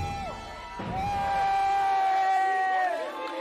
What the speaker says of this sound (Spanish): Decenas de fanáticos vitorearon, aplaudieron y celebraron a Celine Dion cuando salió de su hotel en París.